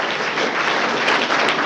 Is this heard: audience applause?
yes